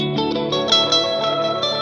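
Electric guitar through a delay with heavy filtering, a few plucked notes trailing into repeating echoes and wash, moderately quiet and played alone.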